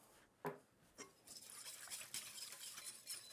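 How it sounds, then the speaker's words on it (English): Milk being whisked into a pot of 1910-style Canadian farm tomato soup, a few distinct metal clinks at the start giving way to a steady, quiet scraping and stirring. "Pour in the milk and whisk that in as we pour."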